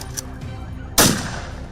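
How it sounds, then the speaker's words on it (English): A single sharp rifle shot cracks out during a wild boar hunt, loud and near, and its echo trails off over a quiet outdoor background. "One single bullet rang out, ending the destructive beast's journey."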